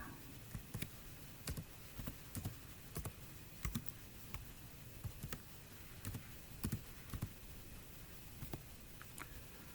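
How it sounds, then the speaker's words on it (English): Keys clack on a computer keyboard as a name is typed in, a series of light, irregular taps spread over several seconds, faint and close, with no voices. "this time I'm going to type in Clark Kent"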